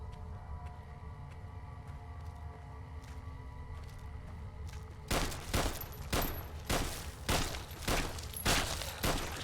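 Shots from a 10mm pistol in Fallout: Tale of Two Wastelands ring out as a rapid run of sharp, loud bangs in the second half, following a stretch of quiet droning game ambience.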